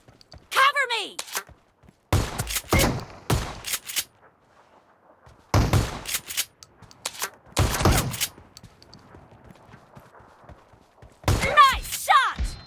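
Shotgun blasts from an S1897 pump-action in a BGMI team deathmatch come in separated loud bursts with near-silent gaps between them, and voices talk intermittently throughout.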